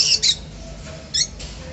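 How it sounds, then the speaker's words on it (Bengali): A caged pair of lovebirds gives a few short, sharp squawks close by, three or four quick harsh calls spaced over a quiet background. "এখন এইখানে যে এক পেয়ার লাভবার দেখতে পাচ্ছেন"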